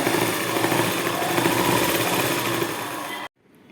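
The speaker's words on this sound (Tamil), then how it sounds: "ஸ்பீடாக போணுச்சுன்னா அப்படியே மிஷின் அதிரும். பார்த்தீங்களா பாருங்கள் எப்படி உதறதுன்ற மிஷினு." A sewing machine stitching at high speed, a dense rapid whirring rattle with strong vibration, loud and continuous up close until it cuts off abruptly near the end.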